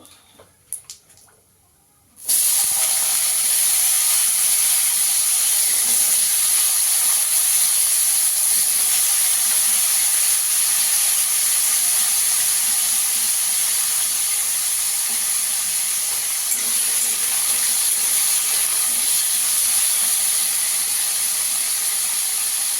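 Potatoes for a cauliflower singara filling drop into hot oil, and a loud, steady hiss of frying bursts in after a quiet opening moment, then holds near and unbroken to the end with no talking.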